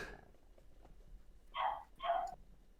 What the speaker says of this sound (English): I hear a dog there.